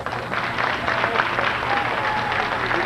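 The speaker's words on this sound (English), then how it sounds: "we think we owe this team another round of applause." Audience applauding the 1996 CIAA champion Bowie State University Bulldogs baseball team, a steady wash of clapping across the whole stretch with faint crowd murmur and some voices underneath.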